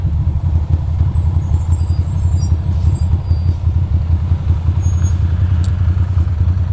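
A school bus moving in expressway traffic gives a loud, steady low engine rumble throughout, with a faint airy hiss briefly rising above it.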